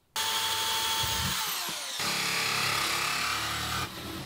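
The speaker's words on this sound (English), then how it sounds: "with me drilling the hole for the shower vent" Power drill boring a hole through a van wall for a shower vent during a camper van build, a loud steady whine running for about four seconds with the pitch sagging midway, close and alone.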